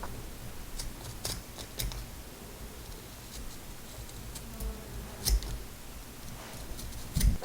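An X-Acto knife with a broken-tipped blade slices through layered paper, giving a faint, quiet scraping with scattered sharp clicks and short cutting strokes, close up and with no talking.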